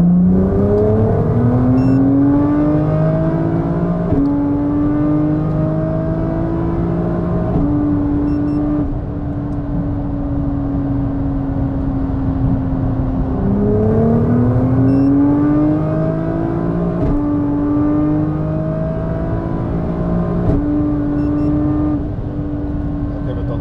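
A Little Devil GTR Stage 1 sports car accelerating hard from 100 to 200 km/h, its loud engine rising in pitch through each gear, with clear drops at the shifts, steady and close inside the cabin.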